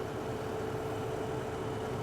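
A compact tractor's engine runs at a steady low idle close by, a continuous even rumble with a faint hum and no voices.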